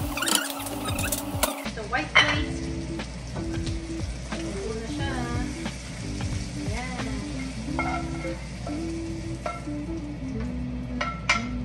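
Pork belly frying crisp in a pan, a continuous sizzle and spatter with occasional pan and utensil clinks, while a voice speaks intermittently over it.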